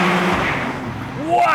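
A 2023 BMW M2 G87 accelerating hard in second gear, struggling for traction, with a loud engine roar that dips and then climbs again in pitch near the end, while a voice talks over it.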